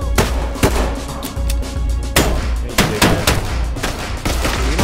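Enemy gunfire in the tactical shooter game Ready or Not: sharp, loud shots fired in irregular bursts, some close together and others spaced apart, over a steady rumbling game backdrop.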